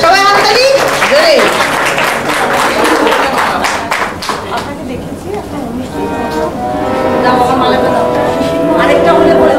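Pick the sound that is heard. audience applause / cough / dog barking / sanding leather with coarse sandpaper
audience applause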